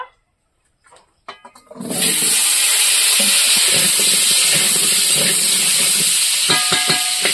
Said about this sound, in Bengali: আর একটু তেল দিয়ে দিচ্ছি, দিয়ে আমরা এই আলুটা ভেজে নেব